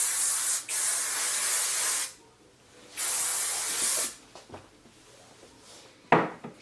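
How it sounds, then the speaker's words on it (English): Hairspray from an aerosol can sprayed onto styled hair, in close, loud hissing bursts: a long blast, a short pause, another steady spray, then a few brief spurts and rustling. "Now I'm going to take some hairspray and I'm going to spray the crap out of it."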